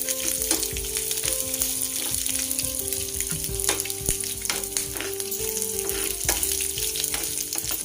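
Dried red chillies and garlic, with mustard seeds and cumin, sizzle and crackle steadily in hot oil for tomato dal, a dense continuous fry with scattered pops and light stirring clatter, no talking.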